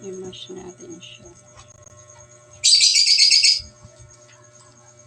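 Pet birds chirping in a home kitchen during banana muffin baking, with a few soft chirps and brief voice sounds early on, then a loud, close chattering burst lasting about a second before fading back to quiet.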